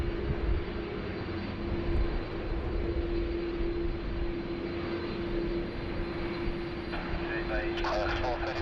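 An airliner rotates and lifts off from Sydney Airport during a thunderstorm, a steady moderate jet rumble with a constant tonal hum running through it, and light voices and radio-like chatter layered under the noise near the end.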